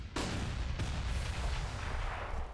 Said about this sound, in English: An exchange of grenades.